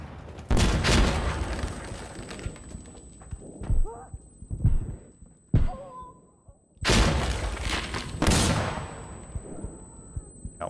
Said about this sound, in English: That's a grenade!